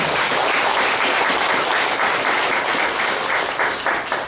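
A room of churchgoers claps steadily in warm thanks to the women who prepared the meal table and shopped at the market, dense sustained applause with no talking over it.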